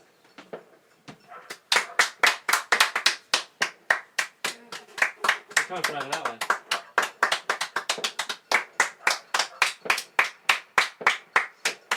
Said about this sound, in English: I'm going to try and slide out and clap out the window.